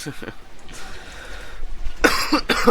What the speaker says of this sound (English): Still kind of coughing, by the way.